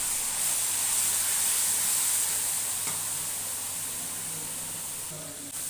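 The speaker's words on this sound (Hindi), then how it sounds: "लहसुन को हमें उस वक्त तक फ्राई करना है इसका कच्चापन ख़त्म हो जाए।" Garlic paste and onions frying in a pot for chicken aloo gosht give a loud, steady sizzle and hiss that tapers slightly toward the end.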